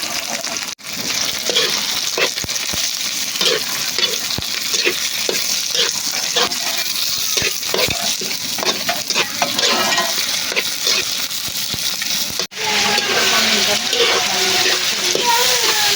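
Tomatoes fry in a pan with a steady close sizzle, broken by repeated scraping and stirring strokes of a utensil against the pan, loud and continuous with brief pauses.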